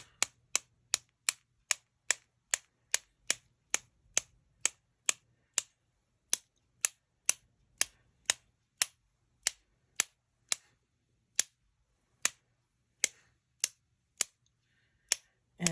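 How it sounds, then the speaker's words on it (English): Crisp scissor snips repeat steadily and close up through wet paper for a handmade card, a quick regular series at first, then slower, more widely spaced cuts. "And then you can just take your scissors"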